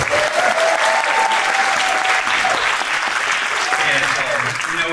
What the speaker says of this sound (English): Okay, clap it up.